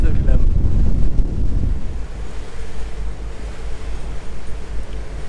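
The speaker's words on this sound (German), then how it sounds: "Es ist draußen ganz schön windig." Strong wind on a boat trip on the Lek river in the Netherlands buffets the microphone with a steady low roar, heavier at first and then settling into a constant rumble, with water noise underneath.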